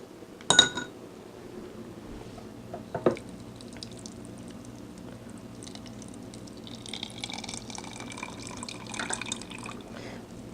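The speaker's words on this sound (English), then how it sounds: "You're going to want to put more filtered water in here." Filtered water is poured into a jar of sprouting grains, with a sharp clink and drips at the start, a second knock, then a soft trickling fill that swells toward the end, faint and close.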